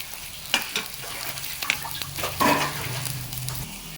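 Onions and green beans fry in oil for vermicelli upma, giving a steady sizzle broken by the clatter and scrape of a spoon stirring the pan at close range.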